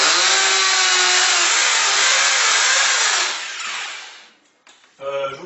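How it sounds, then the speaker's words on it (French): A power drill bores into a wall to hang a picture, its loud steady whine running for about three seconds before tapering off, followed by brief short bursts near the end. "on appuie la perceuse, on prend des appuis, et là, on va percer en faisant quelques à-coups"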